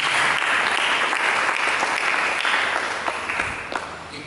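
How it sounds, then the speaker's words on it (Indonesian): A church congregation breaks into loud, dense applause at a sermon, sustained clapping from many hands that gradually thins and fades toward the end. "Berikan tepuk tangan bagi Yesus."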